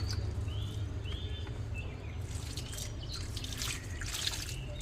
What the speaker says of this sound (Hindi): अभी मैं थोड़ी पानी दे देती हूँ।